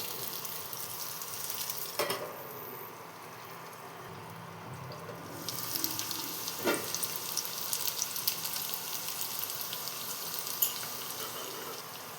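Boiled potatoes frying in a pan for a vegetarian Schezwan potato dish, a soft, fairly quiet sizzle with a couple of sharp clinks and a brief hush partway through.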